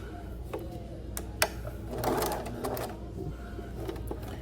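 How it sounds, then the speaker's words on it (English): A sewing machine whirs through a short run of stitching on muslin, a soft mechanical hum with a few sharp clicks, close by and fairly quiet. "my sewing machine wants to suck a little bit of this in"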